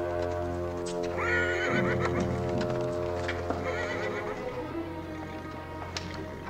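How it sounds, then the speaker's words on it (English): A horse whinnies loudly with a long, shaky neigh, followed by snorts and a few hoof clops, with faint background sound. "I'll make sure my horse is tied to lead."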